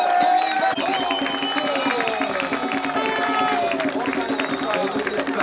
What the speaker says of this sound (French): se lever pour applaudir ces deux formations